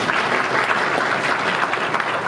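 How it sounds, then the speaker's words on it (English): Audience at a European transport congress plenary session applauding a speaker, a steady wash of many hands clapping together, loud and even throughout, with no voices over it. "And an applause."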